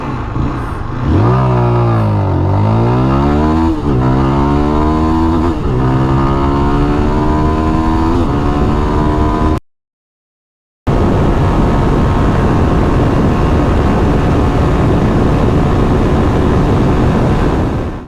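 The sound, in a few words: Zontes GK350 motorcycle accelerating 0 to 100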